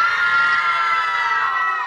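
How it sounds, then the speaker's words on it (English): A crowd of children shouting and cheering together in a loud, sustained wash of high voices, steady throughout and close. "the children chit chat"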